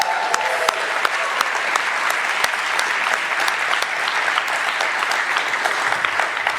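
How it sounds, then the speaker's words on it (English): Dense, steady applause from a conference audience fills the hall, sustained and loud throughout with crisp overlapping claps and no speech. "Can we get a mother heckin' round of applause for that?"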